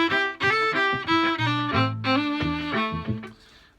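A bowed string instrument (violin, viola or cello) plays the melody of a song alone and up close, in a quick run of ornamented notes that steps down and fades out at the end.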